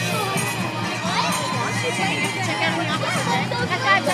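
Crowd at a head-shaving charity event cheering and shouting in a dense, continuous babble of voices, with children's shouts rising above the hubbub and no single speaker standing out.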